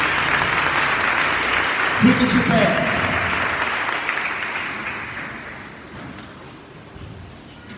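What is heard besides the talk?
church congregation applauding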